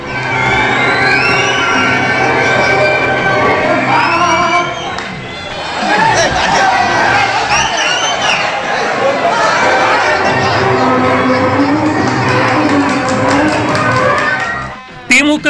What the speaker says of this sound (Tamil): இரு கட்சியினரும் கூச்சல் குழப்பத்தில் ஈடுபட்டனர்